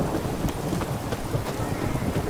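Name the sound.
rain and thunder in The Witcher 3 video game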